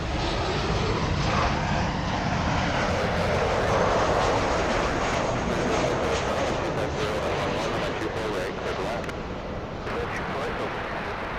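Southwest Airlines airliner in the special Missouri One livery, arriving from Phoenix at Los Angeles airport, a loud continuous jet engine roar that swells and holds, with some talk nearby.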